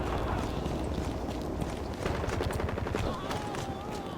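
Rapid bursts of gunfire in the video game Hazard Ops rattle in quick succession, fairly quiet, mixed with other game noise.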